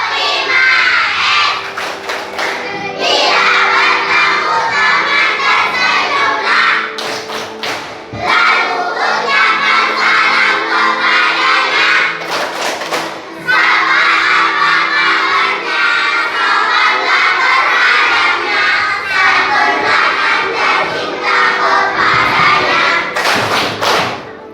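A children's class performs the tepuk 5S clapping chant in rhythmic bursts of claps and thumps, interspersed with voices, loud and sustained with brief pauses between rounds.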